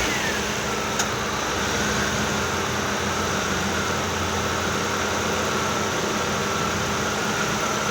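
Engine of a 2007 Ford Focus S running steadily after an alternator replacement, a loud continuous idle drone with even hum and hiss close by, no talking.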